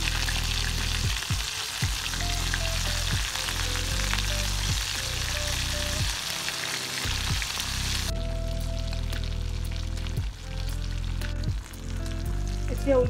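Prawns deep frying in hot oil, a loud, steady crackling sizzle that fills the scene throughout, with occasional stirring clinks and no voices.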